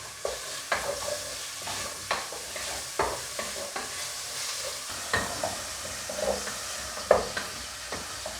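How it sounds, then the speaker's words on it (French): Meat browning in a hot pan for roast chicken, a steady sizzle and fry with repeated stirring scrapes at a regular pace, close and moderately loud, no talking. "On va faire revenir la viande."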